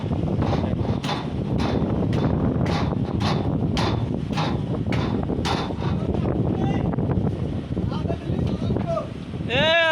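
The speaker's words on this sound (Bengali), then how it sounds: "অপরিমাণভাবে এরা হাওয়া দেয়।" Strong wind buffets a loaded cargo boat, a constant loud rushing roar with sharp flapping bursts of tarpaulin, while people talk over the noise.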